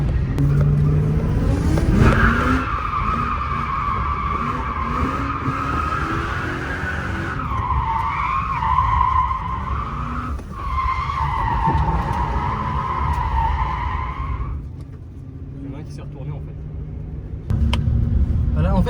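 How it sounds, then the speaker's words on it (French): A car at a drifting school spins its tyres to warm them, loud sustained tyre squeal over a revving engine, pausing and resuming, with people talking nearby. "Je vais juste faire chauffer les pneus avant un petit peu."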